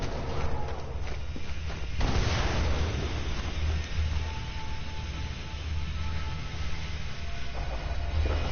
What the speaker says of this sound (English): That's an airstrike right there